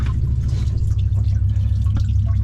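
Water leaks from the impeller hose of a 1986 Baja Sunsport boat with a 350 CI MerCruiser Alpha 1, sitting in the water; steady dripping and trickling rides over a loud low rumble close by.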